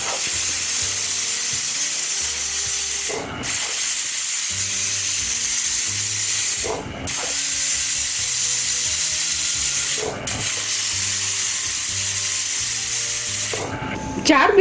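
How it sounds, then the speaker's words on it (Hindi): Loud, continuous steam hissing from a pressure cooker boiling raw mangoes, broken by short pauses into four long whistle bursts, with soft music underneath. "चार विसिल आ गई है"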